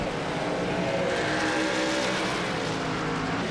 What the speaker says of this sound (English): He's going to kick it sideways again a little bit hard in the braking zone.